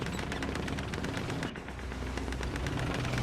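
Rapid bursts of tank and machine-gun fire in the War Thunder tank battle game, a dense near-continuous rattle of shots with heavy booms, loud and alone without talk.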